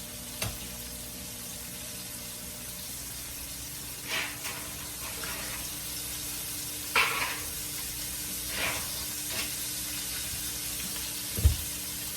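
Steady low sizzling of chicken deep frying in hot oil, with a few brief clanks and clatters of utensils scattered throughout.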